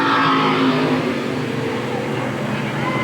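Race cars at Eugene Speedway in Oregon in 1987, a loud continuous engine roar sweeping past on the track with a falling pitch, under a faint commentary voice.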